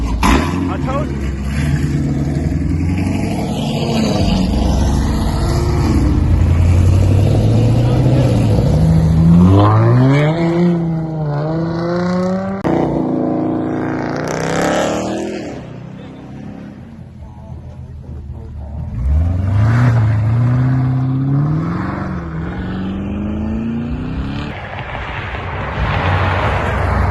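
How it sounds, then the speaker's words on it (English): A Camaro ZL1 engine revs hard at a car meet, rising and falling in repeated loud pulls with a roaring tone, close by, with people talking and crowd chatter over it throughout. "this ZL1 sound like it ain't even stop"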